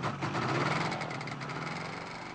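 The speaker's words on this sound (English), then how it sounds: "The two-stroke 50 horsepower engine soon warmed up and Peter Davies prepared for a practice run" A two-stroke 50 horsepower microlight aircraft engine warming up, giving a steady, buzzy running drone with a slight ripple, fairly close and alone, with no voices.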